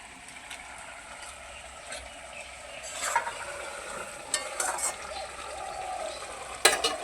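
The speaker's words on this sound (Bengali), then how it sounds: "গরম মশলা দেওয়ার পরে একটু নেড়ে চেড়ে দিচ্ছি।" Mushroom curry in a pan, sprinkled with garam masala, is stirred with a utensil. It sizzles gently while close scraping strokes come in uneven bursts, and no one speaks.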